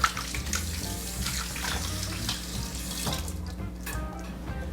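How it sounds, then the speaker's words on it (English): Tap water runs into a kitchen sink while hands are rinsed, a continuous close splashing rush that holds steady for several seconds with slight shifts as the hands move under the stream, no voices. "give my hands a rinse"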